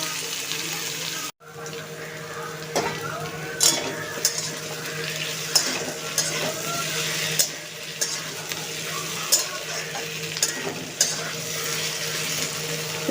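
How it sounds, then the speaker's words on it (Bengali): Potatoes fry lightly in a pan for a jackfruit curry, with a low steady sizzle and a regular run of spatula clinks against the metal. One brief knock sounds near the start. "এবার আলুটাকে একটু ভেজে নেব হালকা করে।"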